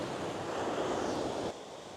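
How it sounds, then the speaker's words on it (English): Ocean surf washes steadily at Rincon, Puerto Rico, a broad continuous roar of breaking waves with some wind rumble on the microphone, close and fairly loud, with no talk. "So I am standing obviously near the ocean."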